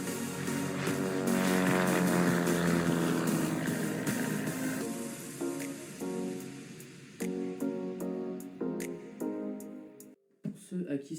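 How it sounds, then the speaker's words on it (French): Light airplane propeller engine during takeoff roll, a loud steady drone that thins out after several seconds as clicks and a voice come in over it. "je décolle en 29"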